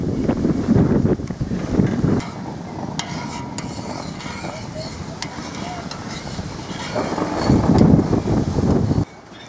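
Strong wind blasting across the microphone in a garden with drought-tolerant plants, loud rumbling gusts that swell at the start and again near the end before cutting off, with some talk mixed in.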